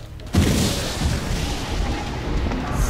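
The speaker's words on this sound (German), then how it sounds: "Oha, das war wieder ein Schuss." One sharp, booming gunshot rings out in the fantasy role-playing game ELEX, then leaves a noisy, rumbling tail of game ambience for a few seconds.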